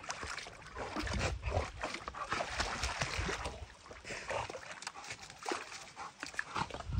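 Dogs make snuffling, whimpering and scuffling noises close by, uneven bursts of animal sound over a rustling background, with no talking over them.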